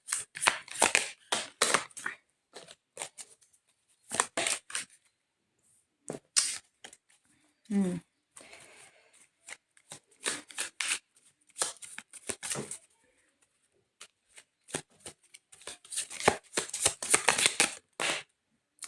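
Tarot cards being shuffled by hand in repeated quick riffling bursts separated by short pauses, close and crisp, with a brief low voiced sound partway through.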